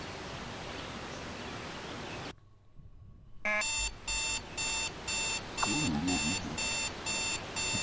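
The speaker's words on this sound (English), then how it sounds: "Our alarm's going off in my left ear." An in-game alarm clock in Jalopy, heard after a brief lull, rings in a steady series of regular electronic beep bursts that repeat about twice a second, loud and close.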